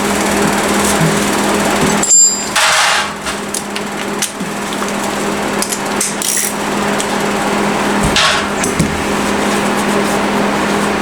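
A Honda EX1000 portable generator engine runs loudly and steadily nearby, a high-pitched buzzing drone with a couple of brief knocks and clatters partway through.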